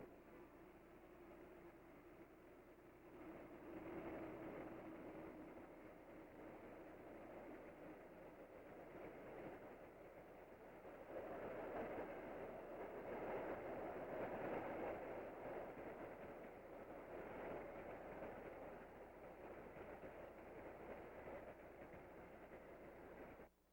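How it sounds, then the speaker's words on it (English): A Southern Pacific train rolls along the rails in a steady, faint rumble with a rhythmic clatter, swelling midway and continuing to the end with no voices. "a new crew takes over our train, and it is again on its way."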